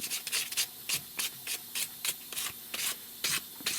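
A screw from a Winchester 1876 rifle being polished by hand, a rhythmic series of about a dozen close, bright rubbing strokes at a steady pace with no talk.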